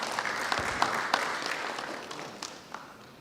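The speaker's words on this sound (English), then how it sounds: "Let's give Brent a round of applause." Applause from an audience at a Caribbean internet and networking tech forum, a dense steady patter of many hands that fades gradually toward the end, with no talking over it.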